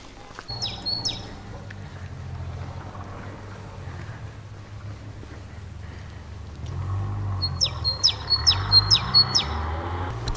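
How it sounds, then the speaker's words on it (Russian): Small birds sing outdoors, bright repeated chirps close by: a short burst near the start, then a quick series of five or six calls toward the end, over low ambient rumble. "Птички все громче и громче поют."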